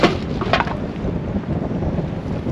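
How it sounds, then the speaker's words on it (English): Strong wind buffets the microphone on the River Humber during sea fishing on the East Coast, a steady loud roar and rumble with a gust burst at the start, no voices. "Wind is picking up a lot now though, isn't it?"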